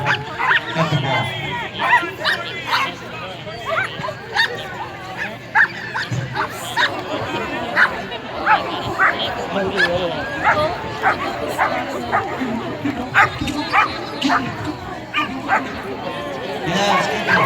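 Excited flyball dogs at an agricultural fair bark, yip and whine in rapid overlapping bursts, near and loud, while people talk throughout.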